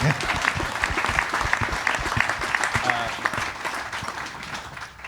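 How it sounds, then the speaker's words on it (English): An audience at a space talk bursts into loud, dense applause for an astronaut, with the clapping sustained across the whole stretch and voices mixed in beneath it. "That's deserving of another round of applause"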